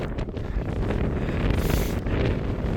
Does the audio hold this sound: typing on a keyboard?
no